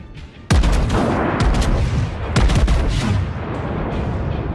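Heavy naval guns from warships in World of Warships boom in loud, reverberant salvos, one big blast followed by a second volley with rumbling tails under continuous battle din.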